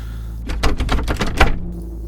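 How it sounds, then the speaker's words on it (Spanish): A door being shaken hard by someone desperately trying to force it open, a rapid burst of loud rattling knocks and thuds over about a second, standing alone against a steady low hum. "Desesperado, comenzó a sacudir la puerta para intentar abrirla"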